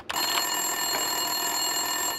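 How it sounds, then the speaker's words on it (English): In the video game Max Payne 2, a desk telephone rings in a continuous electronic trill that starts abruptly and holds steady, close and fairly loud, with nothing else heard. "Winterson's phone was ringing."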